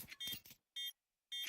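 Short electronic beeps from a planted bomb in Counter-Strike 2 at a PGL RMR Americas match, three bright tonal bursts separated by silence, the last one louder.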